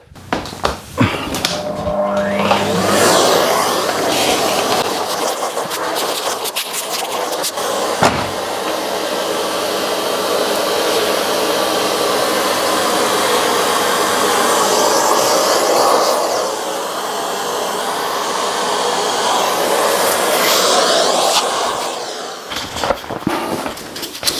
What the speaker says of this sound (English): let me just hoover this off.